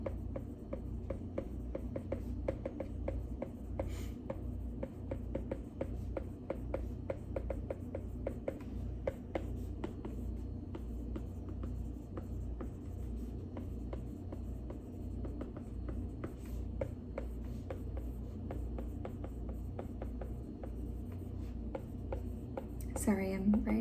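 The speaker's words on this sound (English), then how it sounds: "Sorry, I'm writing." Hand writing during an abnormal psychology lecture on stress, with soft continuous scratching and rubbing strokes running throughout alongside a low steady background hum, close and quiet.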